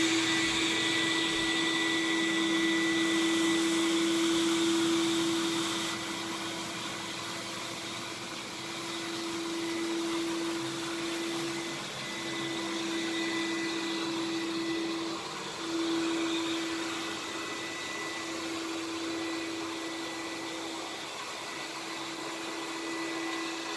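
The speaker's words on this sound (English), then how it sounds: "So I can turn my vacuum on" A SureVac Silent walk-behind vacuum runs steadily nearby, a continuous whooshing drone with a steady mid-pitched whine, slightly louder at first and then settling into an even hum.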